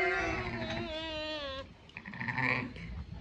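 A ewe sheep bleats in a long wavering cry near the listener, followed by softer, rougher bleating from lambs in a farm setting.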